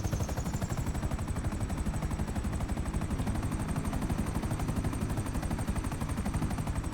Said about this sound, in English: Still shooting at the Titan, but I think he wasn't doing much damage anyway